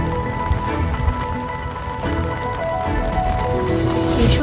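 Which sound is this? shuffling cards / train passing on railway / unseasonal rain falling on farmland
unseasonal rain falling on farmland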